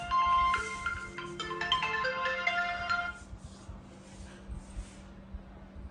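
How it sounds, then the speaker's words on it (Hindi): A phone ringtone plays a bright electronic melody for about three seconds, then stops, leaving quiet room noise. "ये फोन आ रहा है, किस किस को जवाब दूँ ये बता मेरे को।"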